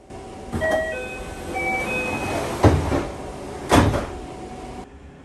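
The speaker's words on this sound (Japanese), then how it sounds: "扉が閉まります。" Train doors at Wakura Onsen station close with a short warning chime, then two solid thuds about a second apart over the steady hum of the standing train.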